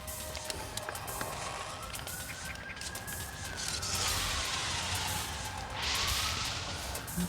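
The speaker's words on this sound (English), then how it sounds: "To be honest, we do hear a lot of police cars these days." A police car siren wails somewhere far off, rising and falling faintly across several seconds over quiet outdoor campsite ambience.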